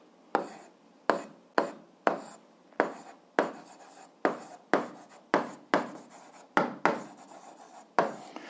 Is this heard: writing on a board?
yes